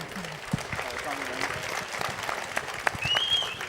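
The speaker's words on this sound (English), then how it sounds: "Let's have a round of applause." Audience applause at a literary festival session, a moderate wash of clapping from a large crowd, slightly distant, with some murmur and an occasional voice over it.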